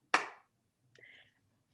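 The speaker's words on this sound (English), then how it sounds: "wait for it, 1 clap." A single sharp hand clap, close and crisp, keeps time in a clapping song, then a short, fainter tonal sound follows after a pause.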